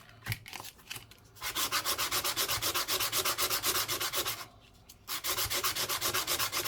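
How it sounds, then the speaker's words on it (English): Sandpaper is rubbed against a 1 Deutsche Mark coin being shaped into a ring, giving loud, close, rhythmic back-and-forth scraping strokes in two bursts split by a short pause, with no talk. "Get a useless bit of sandpaper out, I guess."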